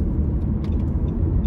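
A car on the road gives off a steady, close, low rumble of engine and road noise, with no voices.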